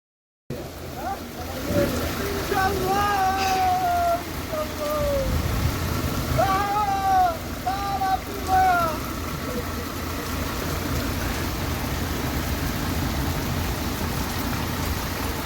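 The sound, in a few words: heavy rain falling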